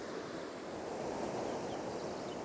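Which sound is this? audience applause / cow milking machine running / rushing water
rushing water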